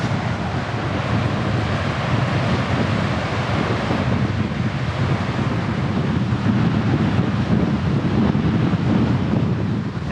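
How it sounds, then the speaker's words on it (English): Strong wind buffets the microphone with a steady roar while wild waves crash and surge along the coast, loud and continuous throughout. "Over to the crazy windy side. The water is wild now."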